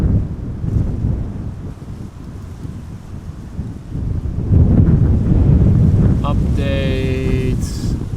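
Strong gusty wind at Amsterdam Schiphol Airport buffets the microphone with a heavy low rumble that strengthens midway, and a short distant tonal call cuts through near the end.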